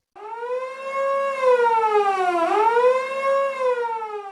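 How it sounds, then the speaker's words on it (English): A workplace tornado warning siren wails alone, a loud electronic tone that holds, dips and rises again in a slow sweeping pattern for several seconds. "We also have a tornado warning alarm that sounds like this."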